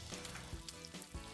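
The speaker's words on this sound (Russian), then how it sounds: "Я беру глубокую посудину с нагретым маслом и просто бросаю туда нарезанные кусочки." Quiet, steady sizzling of cut tortilla chips frying in hot oil, with faint crackles and pops.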